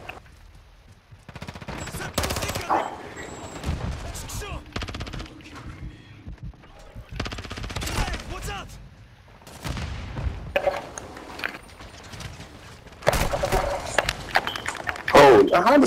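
Assault rifle fire crackles in a video game match in repeated loud bursts, some close and some further off, with booms mixed in and a voice talking between and over the shots.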